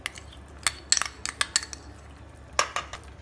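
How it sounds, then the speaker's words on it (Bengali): A spoon scrapes and clinks against a pan while fresh cream is stirred into egg lababdar, giving sharp irregular metallic taps and knocks over a quiet background, with no voices. "খুব ভালোভাবে এবার নাড়িয়ে নিতে হবে।"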